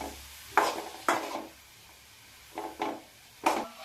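Turmeric and salt stirred into a tomato and onion mix cooking in a pan, heard as several short scraping strokes of a spoon against the pot with brief pauses between them, close and fairly clear.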